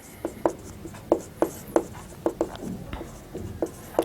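A pen writes out an accounting statement on paper, scratching in short separate strokes with a steady, uneven rhythm. The sound is close and clear, and no voice is heard.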